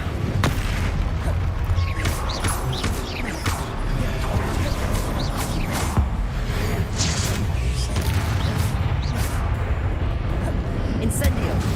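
Spell blasts from Hogwarts Legacy combat, with Confringo fiery explosions, booms and whooshes going off one after another over a dense, rumbling game soundscape that runs the whole time.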